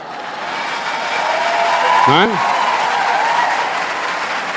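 A large crowd at a Canção Nova Catholic gathering applauds continuously as a dense, even roar, with a voice briefly cutting through midway.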